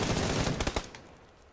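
A rapid burst of automatic gunfire in PUBG on Xbox One cracks out close and loud for under a second, then drops away into quieter background.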